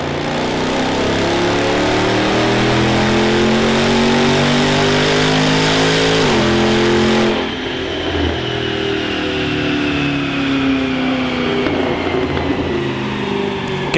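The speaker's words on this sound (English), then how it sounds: "Time for a dyno run to find out what power we've added with those upgrades" A Range Rover V8 engine with performance upgrades revs hard on a dynamometer, a loud, sustained rising roar with climbing harmonics that cuts off sharply near the middle and then settles into a lower, rougher running note.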